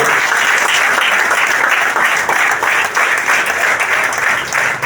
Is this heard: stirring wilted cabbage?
no